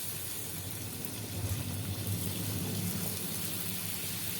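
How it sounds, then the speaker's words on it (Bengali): Fuchka (panipuri) puffs dropped one by one into hot oil in a kadai, giving a steady, dense sizzle and crackle that swells slightly midway and carries on without voices. "দেখুন বন্ধুরা, তেল গরম হয়ে গেছে। আমি এবার টপ টপ করে ফুচকাগুলো সব দিয়ে দিচ্ছি।"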